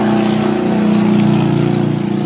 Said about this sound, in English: Wait for that motorcycle to go by.